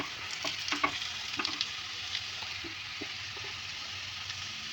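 Fried onions sizzling in oil as Kashmiri chili powder goes in, a soft steady hiss with a cluster of stirring scrapes at the start, then quieter frying.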